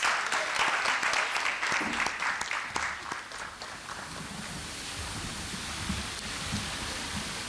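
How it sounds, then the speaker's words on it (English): Applause from the audience at a projects launch event for stakeholders returning to their tables, louder at first and then thinning into a softer, diffuse patter. "A final round of applause for the stakeholders as they head back to their tables."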